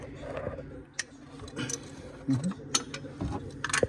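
A ratchet working on the power steering pump bolt of a Mercedes Sprinter 2500 van gives uneven bursts of clicking and metallic clanks, close and moderately loud, with some mechanical rattling in between.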